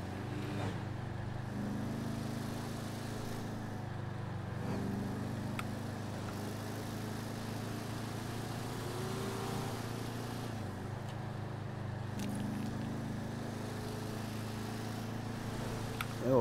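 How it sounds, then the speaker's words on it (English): A video game car engine with an old-school sound hums and revs through several gear shifts, its pitch rising and dropping in smooth steps, fairly quiet and continuous. "the engine sounds nice. It's got that old school style sound."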